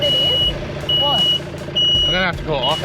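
A broken-down vehicle's warning alarm sounds on a rough outback road, repeating as evenly spaced electronic beeps over a low engine hum while people talk.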